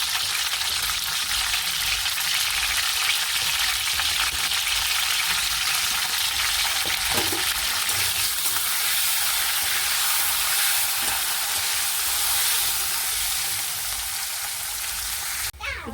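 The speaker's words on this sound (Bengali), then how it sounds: "পটলগুলো ভাজার সময় সামান্য নুন আর হলুদ দিয়ে ভাজছি।" Pointed gourd (parwal) pieces frying in oil seasoned with salt and turmeric, a steady dense sizzle running unbroken throughout with a few faint clinks and stirring touches.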